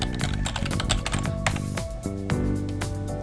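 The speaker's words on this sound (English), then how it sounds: "So we just need to go ahead and type in our full name and email address." Typing on a computer keyboard, a steady patter of close key clicks at a brisk, uneven pace.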